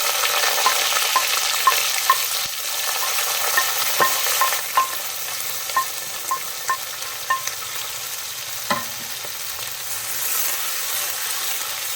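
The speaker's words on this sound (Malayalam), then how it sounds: "നന്നായിട്ടൊന്ന് വഴറ്റിയെടുക്കും." Onions and four round chillies sautéing in a pan for a Kerala-style crab curry in coconut milk, with a steady sizzle throughout and regular scrapes and taps of a spoon being stirred.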